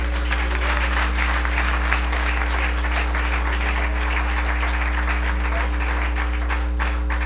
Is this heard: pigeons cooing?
no